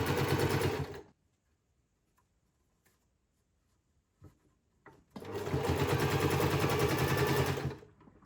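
A sewing machine stitches the shoulder seams of a shirred bow top in two loud runs of rapid, steady needle chatter, separated by a quiet pause with a few faint clicks.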